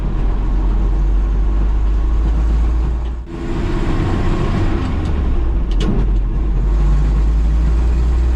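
A 1962 Ford F600 truck drives along the road, its engine droning loudly, then a brief dip in power as it shifts gears without the clutch before pulling steadily again.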